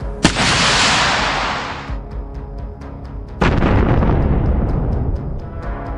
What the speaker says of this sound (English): The first shells slammed into Ukrainian positions, throwing dirt, smoke, and shrapnel into the air.